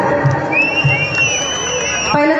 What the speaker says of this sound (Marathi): तोपर्यंत परत शिट्ट्या आणि टाळ्या वाजवा पाहिजे.